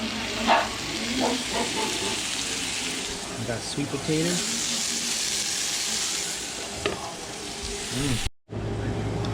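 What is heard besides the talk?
sweet potatoes sizzling in pan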